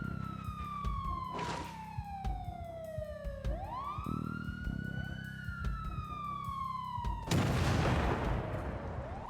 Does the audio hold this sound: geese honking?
no